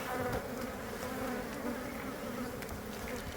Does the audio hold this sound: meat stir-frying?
no